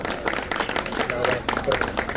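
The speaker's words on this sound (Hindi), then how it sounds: "एक जोरदार तालियों से स्वागत करिए" Audience applause welcoming a guest at a pigeon-flying prize distribution in Raebareli, a steady wash of clapping under a voice on a microphone throughout.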